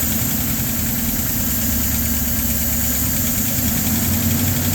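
A LaSalle car engine idles with its choke manually closed, a steady close rumble with an even, slightly rough pulse and no talk.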